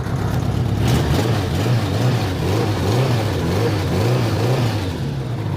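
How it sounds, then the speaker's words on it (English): A Vespa PX scooter's engine runs steadily up close, its low throbbing hum pulsing in a regular wobble with a faint rasp on top and no voices over it. "That's the Vespa PX."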